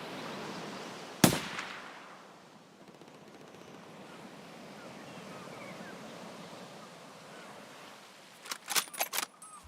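Sniper gunshots in a video game: one sharp crack early on, then a quick cluster of several shots near the end, over steady ambient outdoor noise.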